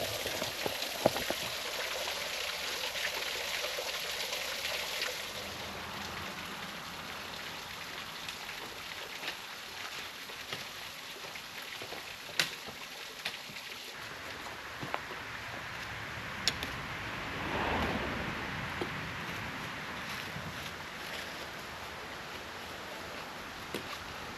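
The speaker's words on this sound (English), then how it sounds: "but it is a waterfall" Waterfall at Ozone Falls, Tennessee, a continuous broad rushing wash of falling water heard at moderate distance, steady and even with a few faint ticks and splashes, no voices.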